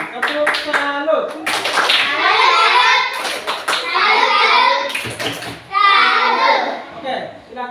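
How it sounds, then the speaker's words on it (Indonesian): Children clapping in applause for classmates in a school classroom, a busy burst of small hands that runs nearly continuously, with kids' voices chattering over it. "berikan aplaus kepada teman-teman. Tepuk salut."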